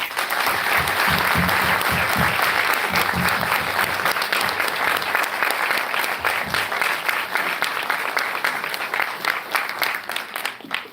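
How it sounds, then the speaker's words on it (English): A crowd applauds loudly and continuously, a dense clatter of many hands that thins slightly and fades toward the end. "Let us give them a round of applause"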